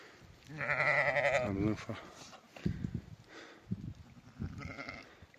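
Several goats and sheep bleat nearby, one long loud cry followed by shorter calls, with a person talking between them.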